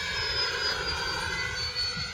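Freewing A-10 80mm EDF radio-control jet flying past, a steady rushing ducted-fan whine with a high tonal edge, fairly close and continuous, no talking.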